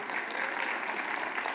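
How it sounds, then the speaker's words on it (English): A seated audience at a realtors' association meeting claps in a short, even burst of applause, dense and moderately loud. "give yourselves a round of applause"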